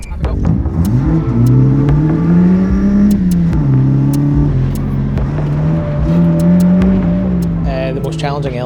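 Electric car accelerating hard around an autotest course, a loud rising motor whine that sweeps up and down in pitch with tyre and wind noise, with a commentator talking over it throughout.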